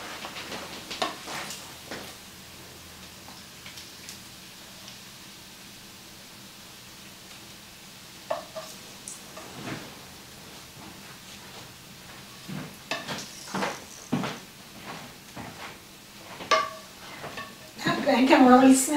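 Bacon fries in a pan with a soft, steady sizzle, broken by occasional clinks and scrapes of a utensil, and voices talk intermittently over it, louder toward the end.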